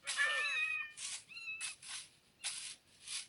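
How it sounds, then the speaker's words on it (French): Cats meowing in the video game Minecraft: a run of several clear, fairly close meows in separate bursts with short gaps between them, and no talking. "Oh, il y a des chats."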